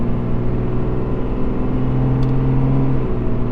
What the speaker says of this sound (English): give it a little quick acceleration test